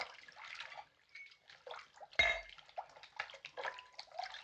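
Rum is poured into a container as a soft, intermittent trickle with light drips and a single sharp clink of glass or metal midway.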